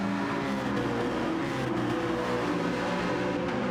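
A Lamborghini race car engine in a racing video game roars steadily at high revs, loud and continuous, alone without talk.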